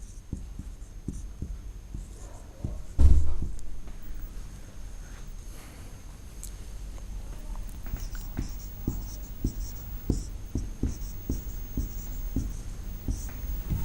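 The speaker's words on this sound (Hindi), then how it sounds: "इसको लिखेंगे अब" A teacher writing notes during a 9th-class science lesson: steady scratchy strokes with regular taps, close and continuous over a low hum, with one brief bump partway through.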